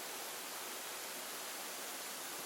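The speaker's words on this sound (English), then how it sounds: "waterfall." A waterfall on a creek in the Ozarks at a creekside campsite, a steady even rush of falling water, soft and continuous with no other sounds.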